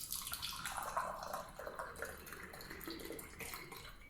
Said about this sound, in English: When you switch off this machine, you can also give water. Press children lock first, and then dispenser.